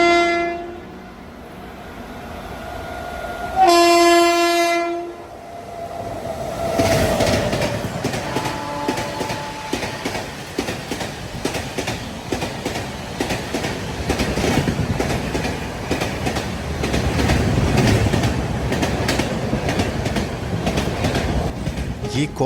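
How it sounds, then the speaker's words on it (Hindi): A passenger train overtaking at a railway junction at night, opening with a loud horn blast, then a steady, close rolling roar of wheels and carriages with rhythmic clickety-clack that continues throughout. "ऐसा लग रहा है कि कोई ट्रेन फिर से ओवरटेक करने वाली है।"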